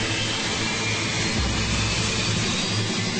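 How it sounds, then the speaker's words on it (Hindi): Jet engines starting up near a runway fence at one of the world's most terrifying airports, a loud constant roaring whoosh with a low rumbling underneath, steady throughout and without voices. "जेट इंजन्स फेंस से सिर्फ 200 फुट की दूरी पर स्टार्ट होते हैं।"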